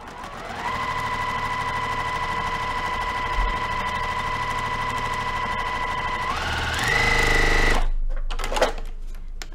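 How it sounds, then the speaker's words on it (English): A sewing machine stitches fabric quilt block seams, running steadily and loudly with a constant motor whine for several seconds, speeding up briefly before stopping, then a few handling clicks. "So I just match my seams, and I'm gonna sew this"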